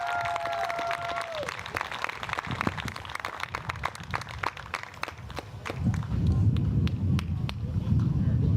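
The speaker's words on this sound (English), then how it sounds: "Now let's give a big round of applause for your 2026 EA softball season." Scattered clapping at a varsity softball senior night ceremony before a game, individual claps sounding distinctly over an open outdoor field, joined later by a rising crowd murmur and cheering.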